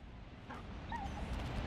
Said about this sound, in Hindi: देखो कुत्ता आ गया।